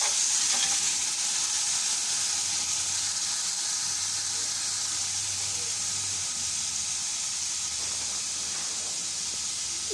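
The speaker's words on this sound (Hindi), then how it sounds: "अब ऑयल में यहाँ पर मैंने दही ऐड किया है।" Yogurt and ginger garlic paste sizzle steadily in hot oil while being stirred for a vegetable pulao, a close, continuous hiss with no break and no voices.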